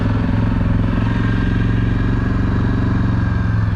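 An ATV engine drones steadily while riding off road from a Mack Lake campsite, a loud, continuous low rumble with even pulsing and no break.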